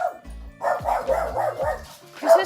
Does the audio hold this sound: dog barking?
yes